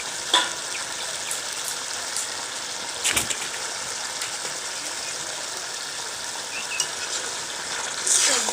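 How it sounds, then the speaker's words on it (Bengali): Chicken curry gives a gentle, continuous sizzle as it cooks, with occasional soft scrapes and clinks from stirring in the pot, quiet and close. "একদম সামান্য নাড়াচাড়া করে নামিয়ে দেবো"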